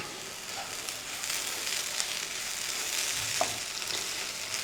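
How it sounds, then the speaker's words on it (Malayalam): Fish podimas stirred in a hot pan after lime juice is squeezed in: a steady, close sizzle and frying hiss runs throughout, with faint scrapes of the spoon, no talking. "നാരങ്ങ നീര് പിഴിഞ്ഞ് ഒഴിച്ചതിന് ശേഷം ഒന്ന് ഇളക്കി കൊടുക്കുക."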